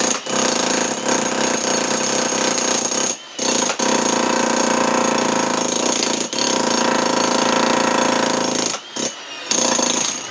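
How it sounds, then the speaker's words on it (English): Loud, continuous jackhammer pounding as it breaks up a concrete patio, close by, with a few brief pauses between sustained bursts. "We're gonna force it to crack with that jackhammer there"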